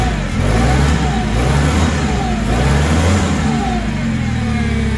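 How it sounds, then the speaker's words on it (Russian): The engine of a Toyota 7FG25 forklift runs smoothly and close by with its hood raised, a steady, even mid-pitched drone that holds constant from start to end. "Работает очень ровно двигатель"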